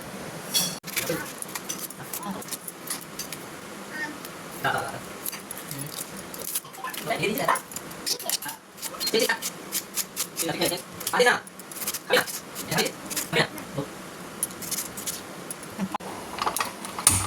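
Knife chopping an onion in a home kitchen, with rapid irregular sharp taps against the board continuing throughout, interspersed with brief handling noises.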